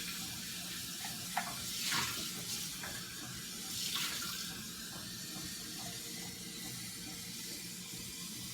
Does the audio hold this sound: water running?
yes